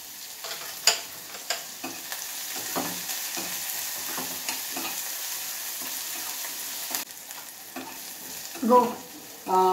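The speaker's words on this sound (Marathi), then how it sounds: "आता आपण कांदा परतून घेतलाय." Chopped onion frying in a pan with a pinch of salt, a gentle sizzle under intermittent scraping stirs of a spoon, with a louder clatter of the utensil near the end.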